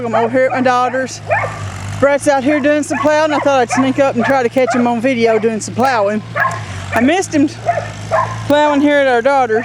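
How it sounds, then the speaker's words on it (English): A dog barks and yips repeatedly at a homestead while someone talks steadily over it, with a low engine hum beneath; the barks come in bursts through the clip. "sorry about the barking dog"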